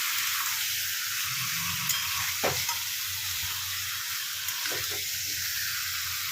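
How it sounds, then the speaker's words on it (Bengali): Chicken pieces frying with garlic in a hot pan, a steady close sizzle running throughout with a few brief scraping stirs, no voices. "এবার এটাকে এই রসুনের সঙ্গে ভালো করে ভেজে নিতে হবে।"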